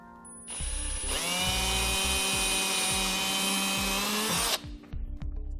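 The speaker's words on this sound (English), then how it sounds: "we'll drill a small hole behind it so we have a place to pass our wires through" A power drill bores a small hole behind a freshly mounted trailer wiring bracket, one steady, loud high-pitched whine lasting about four seconds before spinning down, with faint clicks around it.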